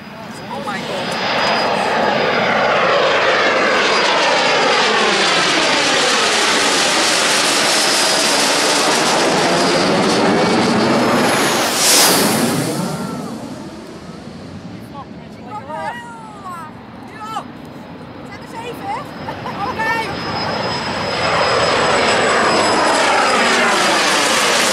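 Propeller or jet aircraft roar loudly overhead at De Kooy airfield in the Netherlands, a broad sustained drone that peaks as a plane passes and fades, then builds again as the next approaches, with people talking nearby.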